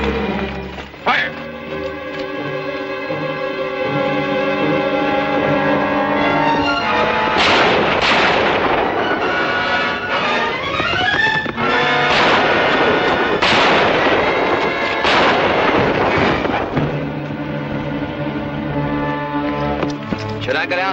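Repeated rifle and artillery gunfire volleys in a 1952 Western battle, loud sharp bursts over dramatic orchestral music with shouting voices.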